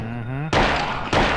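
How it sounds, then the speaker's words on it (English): Heavy thuds of a man banging on a door in the Silent Hill video game, two broad loud impacts after a humming tonal game sound, close and without talk. "He was banging on the door."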